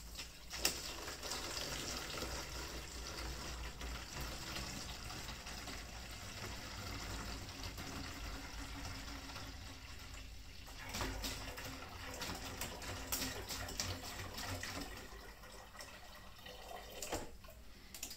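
Juice pours into a container for homemade wine, a faint continuous splashing trickle with gurgles lasting throughout, without talk.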